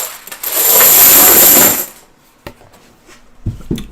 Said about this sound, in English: Got a lot of coins on the table.